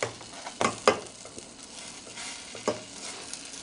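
Food cooks in a CERAMAX nonstick electric portable cooker pot, a soft continuous sizzle punctuated by a few sharp clinks and scrapes of a utensil, close by with no voices.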